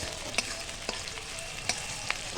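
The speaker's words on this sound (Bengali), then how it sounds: "তেলটা থাকলে কুচানো পেঁয়াজ দিয়ে বাদামি করে ভাজবো" Chopped onions fry in hot mustard oil in a wok, a steady close sizzle with a few sharp clinks of stirring spaced through it, and no voices.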